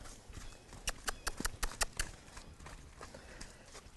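Horse hooves clip-clop in a round pen during groundwork, a quick run of about eight sharp, close hoof strikes in the middle, with softer scattered steps before and after.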